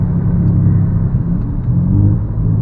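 Engine of a new Volkswagen Polo running an STG3 tune, revving under light throttle with a deep, steady low rumble that swells and eases, heard close from inside the car.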